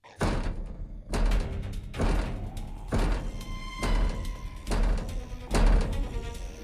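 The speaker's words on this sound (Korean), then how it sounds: "문 밖 좀비들의 공격이 점점 거세집니다." Heavy repeated thuds and bangs as zombies attack a metal door in a video game, about once a second, loud and close, with rattling clangs between impacts.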